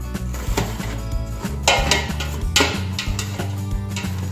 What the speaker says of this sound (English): meat all mixing together